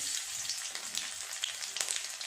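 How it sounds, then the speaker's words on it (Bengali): Green chillies and nigella seeds frying in leftover fish-frying oil for a mustard pabda curry, a steady close hiss of sizzling with faint crackles throughout, no voices. "এই তেলে দিয়ে দেব 2টো কাঁচা লঙ্কা আর হাফ চামচ কালো জিরে।"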